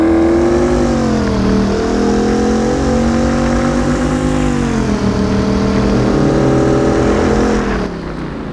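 A Porsche Cayenne Turbo in City Car Driving spins its wheels on rain and ice, the engine revving loud and steady with rising and falling pitch before easing off at the end.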